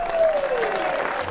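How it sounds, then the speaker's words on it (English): Short burst of crowd applause at a darts match after a player's score, clapping under a commentator's voice, with a brief gliding tone across it. "gets a generous round of applause"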